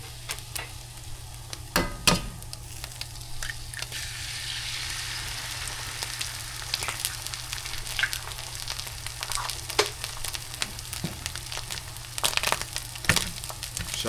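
Eggs frying and burning in an overheated pan, giving a steady close sizzle with sporadic crackles and spatter pops, alone without talk.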